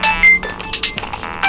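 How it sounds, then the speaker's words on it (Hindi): A phone ringtone sounds for an incoming call in a police office, a bright electronic melody of repeated tonal notes ringing loud and close with no talk over it. "यादव सर का फोन है।"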